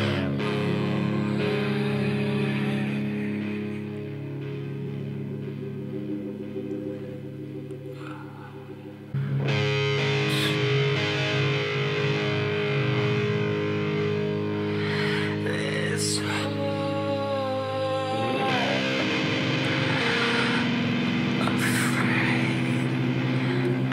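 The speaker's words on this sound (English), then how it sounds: "out the heavy distortion on this guitar." Heavily distorted electric guitar in a song, playing loud and sustained throughout with thick, droning chords, briefly easing before surging back harder about nine seconds in.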